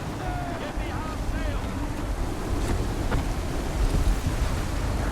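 Stormy wind roars steadily at sea aboard a sailing ship in Assassin's Creed 3 Remastered, a constant rushing gust with surging water beneath and a few faint creaks and calls mixed in.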